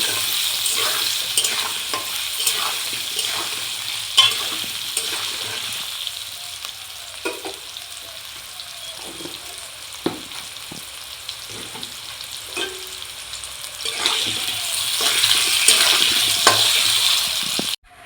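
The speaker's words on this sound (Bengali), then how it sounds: "এটাকে আমি লাল লাল করে ভেজে নেব।" Soybean chunks seasoned with salt and turmeric fry in a pan, a steady sizzle broken by scraping stirs and soft clinks, with the hiss swelling louder toward the end.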